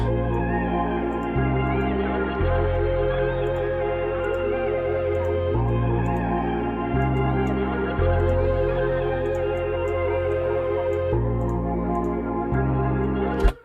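A deep, sustained pitched-up bass line steps between a few notes in a slow, repeating R&B pattern, playing steadily with a bright, processed edge.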